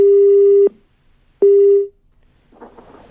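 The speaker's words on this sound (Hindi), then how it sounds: "मुझे लगता है फोन कट गया है" A telephone busy tone after a call drops: a steady electronic beep cuts off, pauses, and sounds again, loud and clear, followed by faint low rustling.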